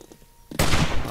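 A gunshot in the video game 7 Days to Die cracks out after a brief near-silence, followed by a short, loud, noisy tail. It is a single close shot without talk.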